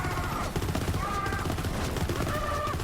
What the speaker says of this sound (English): And this is the Skexel.